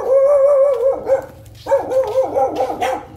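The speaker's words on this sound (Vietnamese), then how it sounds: "nhà mình hôm nay nuôi chó hả?" A dog at a family home barks and howls close by in long, loud, drawn-out cries, with one short pause between bursts and no talking.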